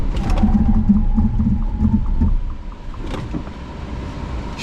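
A Tata Sierra EV AWD braking hard from 100 km/h to a stop, with a loud road and motor whine that drops as the car slows, followed by quieter cabin noise and faint clicks.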